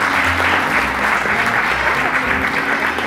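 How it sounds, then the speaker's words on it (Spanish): Loud, dense applause from an audience at a talent night, sustained and even throughout, with crowd noise mixed in and no pauses. "Fuerte ese aplauso."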